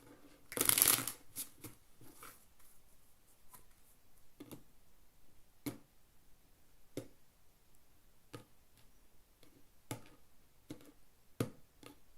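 Playing cards are shuffled at a late-night poker table: one loud riffling burst near the start, followed by scattered sharp taps and clicks of cards being handled in a quiet room.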